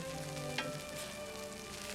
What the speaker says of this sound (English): Add a touch of olive oil, followed by chopped onions. Then as soon as you start to hear the sizzling